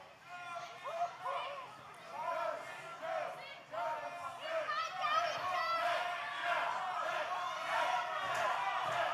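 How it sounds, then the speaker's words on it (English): Loud wrestling-event crowd roaring and cheering throughout at an OVW show, a dense wall of shouting voices that swells and stays steady. "Listen to this crowd."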